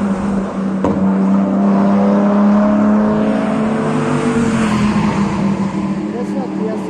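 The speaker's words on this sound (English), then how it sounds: "This is a Beamer, look at that." A BMW driving past, its engine note rising and then falling as it goes by, loud and close, with a person talking over it.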